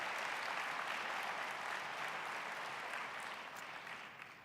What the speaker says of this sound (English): Please give them a round of applause for the great work that they do.